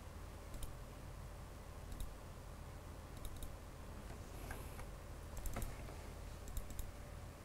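A computer keyboard is typed on quietly while a project name is entered for rotoscoping software. The keystrokes come as faint, sparse clicks in short bursts over a low room hum.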